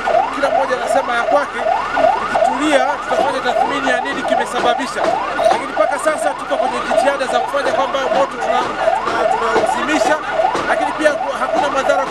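Fire brigade sirens wail continuously at a blaze on CCM shops in Njombe, a rapid up-and-down sweep repeating loudly throughout, with a crowd chattering and voices underneath.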